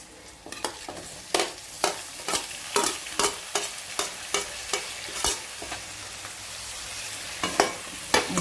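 Tomatoes and green chillies fry with crisped dried fish in a pan, a spoon scraping and knocking in a quick, steady rhythm over a continuous close sizzle.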